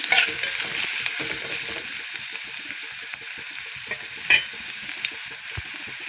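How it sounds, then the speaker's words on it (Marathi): Onion sautéing in hot oil in a pan, a close, continuous bright sizzle with scattered stirring scrapes and small pops, steady throughout with no talking. "तेल तापलं आहे बघा आता आपण त्याच्यात कांदा टाकू कांदा थोडा परतून घेऊ आपण"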